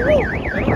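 A car alarm blares, its tone rising and falling in a rapid siren-like whoop, loud and close, repeating in even cycles.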